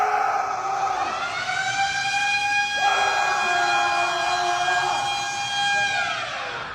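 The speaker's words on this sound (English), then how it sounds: "Show a video of the lunk alarm going off." A loud wailing gym noise alarm siren sounds continuously, its pitch sliding and shifting as it blares on, then fades toward the end.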